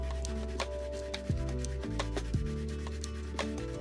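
A metal workshop stool is sanded by hand in repeated rough rubbing strokes at an even pace, close and fairly loud, with steady tones humming underneath.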